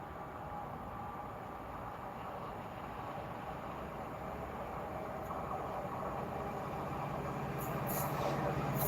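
A freight train passes on the West Coast Main Line at Winsford, a continuous broad rumble and rolling wagon noise that swells slightly as it goes by, with brief high squeals near the end and no talk.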